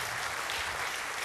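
Steady, dense applause from a crowd at a Rotary International district assembly, clapping throughout without a break.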